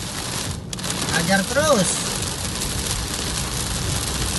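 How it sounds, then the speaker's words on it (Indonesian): Heavy storm rain pours steadily during a night hunt in rain and thick fog, a dense continuous hiss filling the scene while someone speaks briefly near the start. "Aduh, hujannya gede banget"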